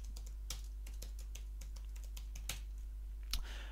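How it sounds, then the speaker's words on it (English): Password being typed on a computer keyboard at a desktop, a string of light, close key clicks in an uneven rhythm with a few sharper taps and no talking. "I have a little bit of difficulties typing my password"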